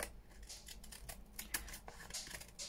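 Scissors snip through packaging scraps in a quiet crafting space, a handful of short crisp cuts spaced irregularly close to the microphone.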